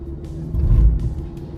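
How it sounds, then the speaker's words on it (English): Engine of a 2027 Kia Telluride X-Pro labouring on an uphill climb, a steady close low rumble that swells briefly mid-clip, heard from inside without talk. "If you hear the engine working a bit harder, it's because we're going uphill."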